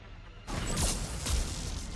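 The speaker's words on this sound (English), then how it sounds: "Explosions." Explosions in the video game Mass Effect 3 during a firefight against an Atlas mech: a sudden loud, broad blast that erupts after near-silence and keeps roaring with a second surge of crashing debris.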